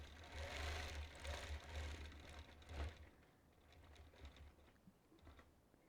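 A quilting machine stitches a dense matchstick texture into a quilt, its needle chattering in a fast, steady run that is loud at first, then lighter and more broken.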